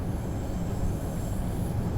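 DB Talent 2 electric multiple unit running in the Train Sim World 4 game, a continuous low rumble of wheels on rails with a faint high whine overhead, steady and close.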